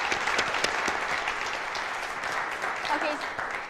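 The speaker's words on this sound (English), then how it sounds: "How about a round of applause for our MC students?" An audience at a spring business pitch competition claps steadily for several seconds, with scattered whoops and voices mixed into the applause.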